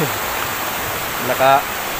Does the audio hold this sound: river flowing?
yes